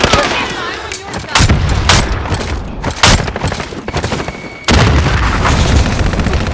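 Gunfire in Call of Duty, loud bursts of rapid shots and booming impacts in quick succession, close and dense across the whole stretch.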